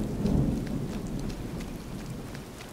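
Steady rain patters in a Skyrim game world while a low thunder rumble swells near the start, then eases into a continuous soft wash of rainfall.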